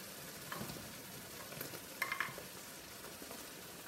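Pinakbet cooks in a pan, a soft, steady sizzle with light crackles and a few small pops, quiet and close with no voices.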